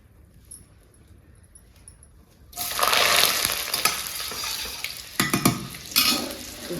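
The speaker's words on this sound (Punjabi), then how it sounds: "ਆਪਾਂ ਲਾਲ ਮਿਰਚਾਂ ਤੇ ਪਹਿਲਾਂ ਪਾ ਦਿੰਨੇ ਆਪਾਂ ਲਸਣ ਦੀਆਂ ਪੂਰੀਆਂ" Red chillies and whole garlic cloves hit hot fat in a tempering for saag cooked on a wood-fired chulha, bursting into a loud, close, crackling sizzle after a quiet start, with sharper spits and stirring scrapes.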